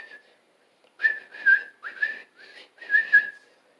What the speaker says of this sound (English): And I'm pretty good whistling now,